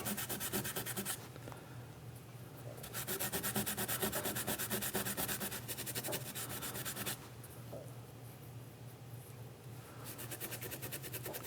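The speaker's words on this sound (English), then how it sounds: "I'm just going to do a little deburring with Scotch-Brite." Scotch-Brite pad rubbing over a freshly machined metal clamp for a hand scraper to deburr it, a quiet scratchy scrubbing in alternating bursts with short pauses between strokes, close by.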